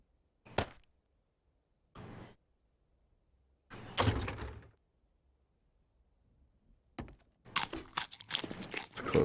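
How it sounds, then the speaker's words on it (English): A door closing in the survival game 7 Days to Die, heard among a few separate short thuds and clunks with quiet gaps between them, ending in a denser run of clattering in-game sounds. "Close this door here."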